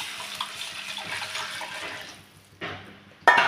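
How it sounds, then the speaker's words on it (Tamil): Tamarind water is poured into a pan of rasam with spices, a soft continuous trickle and splash that fades, then two louder gushes of liquid near the end. "தண்ணியை ஊற்றிக்கலாம்."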